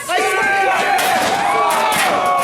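A crowd cheers and yells at an independent pro wrestling show, loud and close, with whoops and voices overlapping in a continuous roar.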